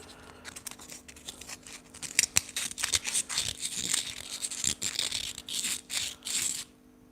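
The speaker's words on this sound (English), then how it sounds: "I'm going to see if it's easy to clean with sandpaper" A carved Swiss pine spoon rubbed with sandpaper, close-up: a run of short, dry scratchy strokes in irregular bursts, alone with no talking, stopping abruptly near the end.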